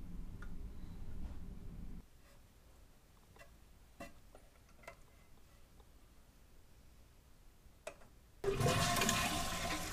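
A toilet fitted with a Fluidmaster Duoflush dual flush valve flushes near the end, a loud rushing burst of water after several seconds of quiet with faint ticks and rustles.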